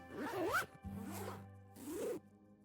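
A tent's zipper is pulled three times in quick succession, each a loud, close rasping zip with short pauses between, heard alone without speech.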